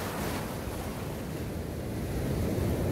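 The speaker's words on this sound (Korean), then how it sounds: "파도가 너무 무섭게 치고 있어요" Rough sea waves crashing at night during cast-net fishing from the shore, a dense, steady roar of surf that fills the whole stretch without a break.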